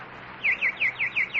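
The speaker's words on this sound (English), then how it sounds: "All the birds are gone but that one. Hello, pretty nightingale." A nightingale sound effect from a radio mystery drama: six quick, evenly spaced bright chirps, each a short sliding tweet, clear and close against a quiet background.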